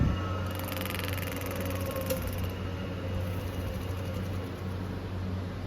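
A two-phase electric motor running steadily on a workbench, a constant low hum with a faint higher whine, unchanging throughout with no talk.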